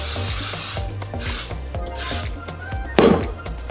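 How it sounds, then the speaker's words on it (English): Cooking spray hisses onto a hot pan before lean ground turkey goes in, a short steady spray near the start followed by a sharp burst, all over a rhythmic background beat. "Spray the pan with some cooking spray."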